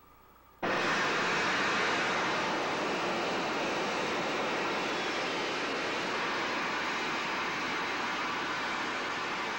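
A rocket stage engine ignites in a 1975 moon-voyage film, bursting abruptly into a loud, dense, sustained roar that holds steady and full for nearly nine seconds with no voices over it.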